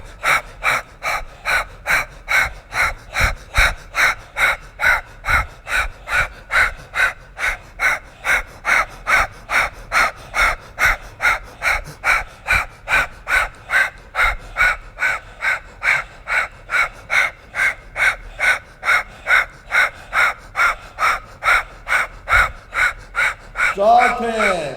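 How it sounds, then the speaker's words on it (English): Rhythmic human breathing, loud and close, with dozens of quick, evenly spaced in-and-out breaths repeating steadily throughout, ending with a brief vocal sound. "Keep breathing. In and out."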